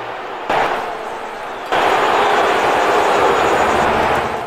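Podracer engines roar in the Mos Espa pod race of the Lego Star Wars video game, a loud continuous jet-like rumble that swells sharply partway through and holds at full volume.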